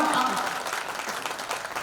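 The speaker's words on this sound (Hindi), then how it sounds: "आपकी तालियां कमजोर है, मेरी शक्ति आपके ऊपर ज्यादा पड़ रही है" At a Hindi poetry recital, the audience claps in a steady, moderate patter of applause. A voice carries faintly through it.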